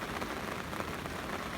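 Heavy rain pours down steadily during a thunderstorm at a carp fishing lake, a dense, continuous hiss of drops on surfaces filling the whole moment with no talk.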